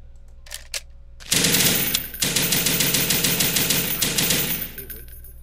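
Rapid bursts of automatic fire from a BAR machine gun in a video game, one long loud string of close, evenly spaced shots after a few faint clicks, then a short break and another sustained burst that cuts off.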